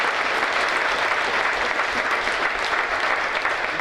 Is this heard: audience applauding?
yes